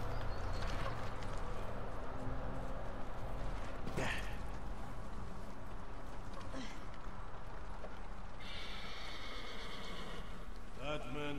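Horses in Ghost of Tsushima run with a soft, steady drum of hooves beneath a dense wash of ambient game noise, spoken dialogue and a few brief sharper accents.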